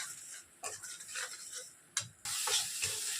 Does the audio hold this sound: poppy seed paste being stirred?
yes